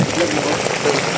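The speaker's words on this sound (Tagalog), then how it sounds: "Kalakas po talaga ng ulan, guys." Heavy rain pours steadily during a flood, a dense continuous hiss of drops drumming on surfaces close by, with no break across the short stretch.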